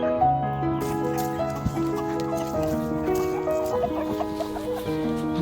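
Ayam Cemani chickens and a chick clucking around a farm field, several close birds calling in overlapping bursts throughout, with a horse or other livestock faintly audible behind them.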